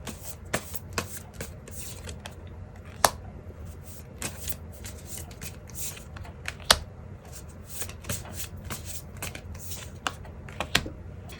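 Hand shuffling of a tarot deck, close and crisp, with a steady papery rustle broken by frequent sharp card taps and flicks over about eleven seconds, no voices present.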